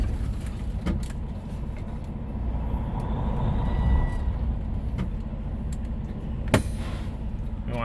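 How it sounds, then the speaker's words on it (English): A semi truck idles with a low, steady rumble, and one sharp, short burst of air rings out as the air brake valve is pushed in. "Push back in your air brake and push it all the way back"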